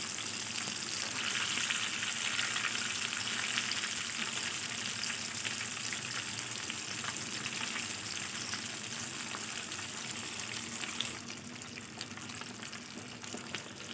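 Lahori chira fish pieces fry in hot oil while being pressed lightly from above, giving a dense, steady sizzle that crackles throughout and eases slightly near the end.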